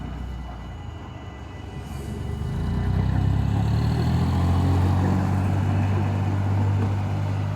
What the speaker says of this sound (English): Look, they've got the inspection train out.